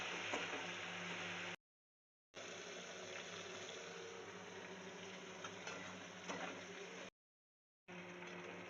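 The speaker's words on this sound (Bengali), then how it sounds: "একদিকে বন্ধুরা মাছ ভেজে নিচ্ছি" Fish frying in a pan for a home-cooked Bengali meal, a steady faint hiss and crackle of hot oil, with two short gaps of silence.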